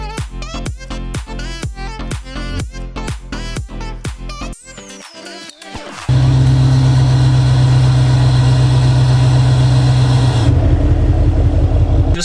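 A pickup truck engine starting and then idling steadily and loudly, preceded by rapid rhythmic clicking and cranking before it catches and settles into a constant close drone.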